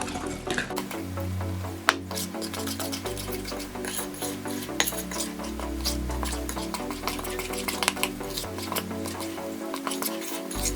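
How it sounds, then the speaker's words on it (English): A spatula folds flour into banana bread batter, giving soft, rhythmic scraping and wet squelching strokes close by, steady and fairly quiet, with no talk. "we're just going to fold it in like this"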